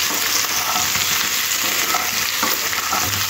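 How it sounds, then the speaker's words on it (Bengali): Small new potatoes frying in hot oil in a pan, a loud, steady, dense sizzle with faint stirring scrapes, no voices. "এবার সমস্ত কিছু আলুটা একটু লাল লাল করে ভেজে নিতে হবে"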